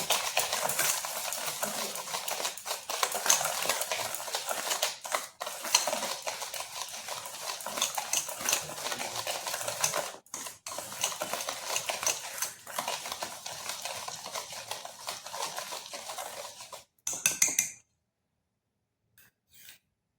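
Sugar being mixed into sweet palm fruit pulp in a bowl, a continuous close scraping and squelching of a spoon working through the thick mixture for many seconds, with a few brief pauses, before stopping abruptly.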